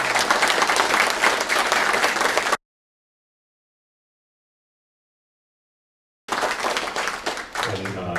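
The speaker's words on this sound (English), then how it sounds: "Let's give him a round of applause." An audience at St Peter's chandelier dedication applauds Merle Hoffman with full, dense clapping. The applause breaks off into a few seconds of total silence, then resumes just as strong.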